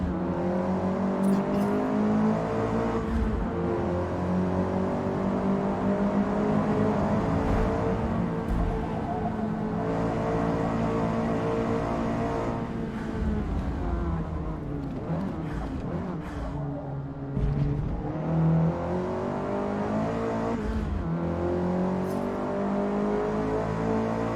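Race cars in the Forza Motorsport racing game drone and rev continuously as they jostle and overtake, engine tones rising and falling with gear changes over a long unbroken stretch.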